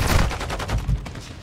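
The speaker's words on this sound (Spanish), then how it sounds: "Es que estoy escuchando tiros en tu COD" Dense bursts of automatic gunfire from a Call of Duty: Modern Warfare II match, rapid repeated shots with loud low thumps, continuous and close throughout.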